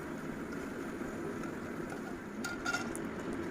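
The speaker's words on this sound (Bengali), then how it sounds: "প্রথমে কাজু বাদামটাকে ভেজে নেবো" Cashew nuts frying in oil for fried rice, a soft, steady bubbling hiss heard at low level, with a few faint light clicks near the end and no voices.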